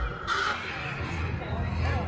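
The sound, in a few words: animatronic crow cawing at Halloween Horror Nights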